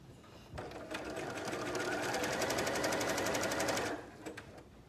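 A sewing machine runs steadily for about three seconds, a fast even stitching rattle that starts and stops abruptly, close and fairly loud.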